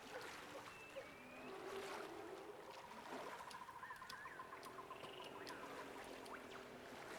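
Faint, low engine rumble of a boat moving through water, surrounded by croaking frogs, chirping birds and scattered swamp creature calls.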